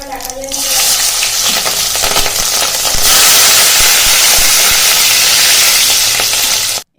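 Green chillies and curry leaves fry loudly in hot oil in a pan, a dense close sizzle that surges as they are added and keeps crackling steadily before cutting off abruptly.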